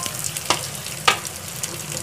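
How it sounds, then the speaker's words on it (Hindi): Chicken cheesy lollipops fry in oil over medium heat, a steady soft sizzle with two sharper crackling bursts, close and fairly quiet. "बस इसको हम ऐसे ही फ्राई करेंगे।"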